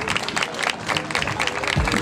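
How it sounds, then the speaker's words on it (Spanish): An audience at the final gala of a local talent show in Concordia claps for the performers, a short, dense burst of applause from a crowd that fills the whole moment. "yo quisiera pedir un fuerte aplauso para todos los talentos"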